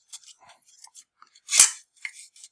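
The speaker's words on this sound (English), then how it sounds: "These scissors didn't really do a neat enough job" Scissors snip through cord while assembling an AuthentiKit Spitfire MkIX flight stick, a few faint rustles and small clicks building to one loud, crisp cut midway, followed by softer handling noises.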